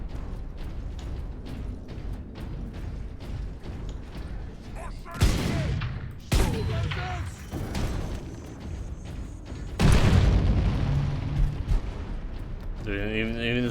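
Grenade blasts in the video game Warhammer 40,000: Space Marine Remastered, several heavy booming bursts spaced a few seconds apart over a rattle of gunfire and battle noise, with a voice talking over it.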